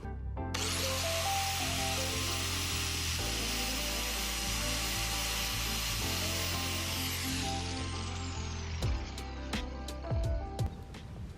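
Angle grinder slicing through a stainless braided brake line on a Sportster build: a loud, steady, high whine for several seconds that winds down, followed by a few sharp clicks and taps.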